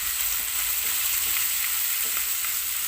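Onion, green chilli and curry leaves fry in a pan with a dense, even hiss of sizzling oil and faint soft stirring ticks throughout; no talking.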